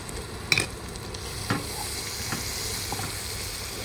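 Onion, green chili and ginger garlic paste fry in a pan with a steady, soft sizzle. A few sharp clinks and scrapes from stirring break through it, and nobody speaks.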